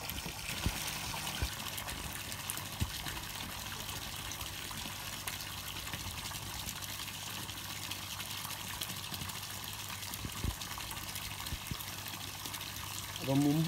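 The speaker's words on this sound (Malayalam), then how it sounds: "ഈ യുവിയിൽ നിന്ന് വരുന്ന വെള്ളം റിട്ടേൺ വരുന്നുള്ളതുകൊണ്ട് അവിടെ ധാരാളം എയർ ബബിൾസ് ഉണ്ടാകുന്നുണ്ട്" Water returning from an aquarium UV filter pours back into the tank and churns up air bubbles, making a low, continuous trickling gush that stays steady throughout at a quiet level.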